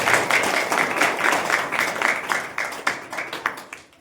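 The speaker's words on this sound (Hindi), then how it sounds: "जोर से तालियां बजाएं।" An audience claps loudly at a Hindi church sermon, a dense burst of applause that thins into separate claps and fades out.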